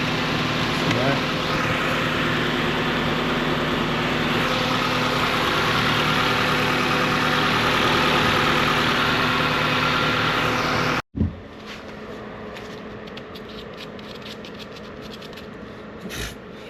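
A car engine idles steadily at close range, a constant mid-low rumble for about eleven seconds before cutting off abruptly, leaving a quieter hum with faint scraping.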